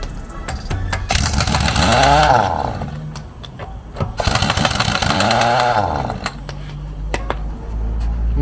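A Stromo cordless impact wrench works loose vehicle wheel nuts in two loud hammering bursts, each a rapid rattling clatter with rising and falling motor pitch, separated by quieter clicks and handling noise.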